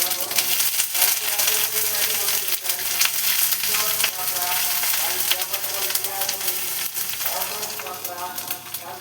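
Whole cumin seeds and grated ginger frying in a pan for a mung dal and giant taro dish, a loud steady close sizzle with faint stirring and occasional crackles.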